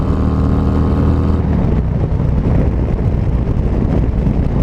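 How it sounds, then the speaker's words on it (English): Loud steady wind roar buffets the rider on a 2019 Harley-Davidson Road Glide Special at speed, with low engine rumble mixed in and no break in the rushing noise. "Definitely getting some wind."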